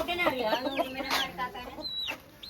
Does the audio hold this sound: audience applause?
no